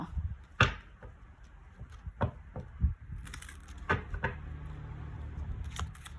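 Tarot cards being shuffled and laid out, with a run of close, soft papery slaps and flicks, several sharper snaps, and quiet card rustling in the pauses between them.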